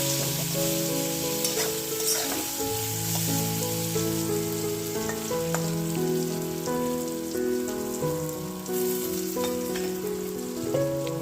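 Steady crackling sizzle of eggplant frying in a little oil, close and continuous, with a sustained melodic music track playing over it throughout.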